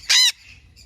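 A Hahn's macaw lets out one loud, harsh squawk close by, followed by quiet.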